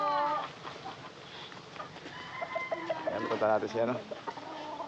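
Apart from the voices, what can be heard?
chickens clucking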